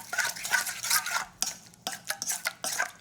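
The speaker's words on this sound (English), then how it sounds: "Mix well until the sugar is well dissolved." A utensil stirs sugar into Korean bulgogi marinade in a bowl, producing close, uneven scraping and clinking strokes in quick bursts with brief pauses between them.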